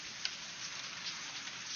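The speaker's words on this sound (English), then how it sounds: "it's raining right now" Rain falls outside during a morning thunderstorm, a soft, even hiss of steady drops heard faintly and from a distance, with one small tap near the start.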